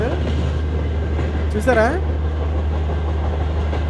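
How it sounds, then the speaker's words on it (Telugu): A very long train, roughly a kilometre of coaches, runs past in an Indian train simulator game as a steady low rumble, with a brief rising whistle-like tone midway and someone talking over it. "ఇప్పుడు చూడండి, ఓ చాలా పెద్ద ట్రైన్ బ్రో, అంత మామూలు ట్రైన్ కాదు"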